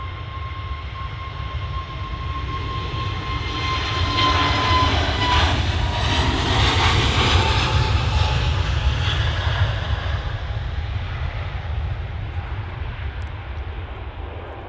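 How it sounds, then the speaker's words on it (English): An EasyJet airliner departing Manchester Airport for Prague produces a steady, distant jet engine roar that swells toward the middle and then slowly fades, with no talking. "First departure, EasyJet off to Prague."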